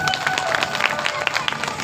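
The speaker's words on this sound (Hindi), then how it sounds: "बजाओ तालियां" Clapping from an audience at a religious sermon, a brisk burst of many hands applauding with crowd murmur mixed in, fairly loud and close, continuing without a break.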